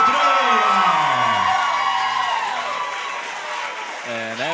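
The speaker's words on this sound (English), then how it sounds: "And as you can hear from the roar of the crowd, Beaufort's own Summer Estrella comes out fo" A crowd at a youth MMA bout roars and whoops as a fighter comes out, loud sustained cheering with rising shouts, while an announcer speaks over the noise.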